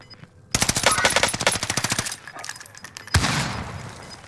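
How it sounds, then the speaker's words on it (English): Rapid automatic gunfire in a video game aimed at a player in the air, a loud sustained burst of fast shots for about a second and a half, then a single heavy blast near the end. "he's shooting me out of the air"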